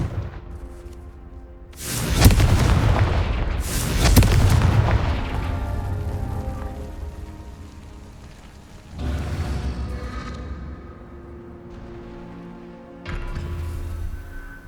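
Booming Confringo spell blasts in Hogwarts Legacy, with two heavy explosions close together early on and two more later, each a loud deep burst that fades into a rumbling tail.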